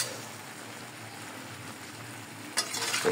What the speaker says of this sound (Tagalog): Hanggang sa ma-prito siya ng konti.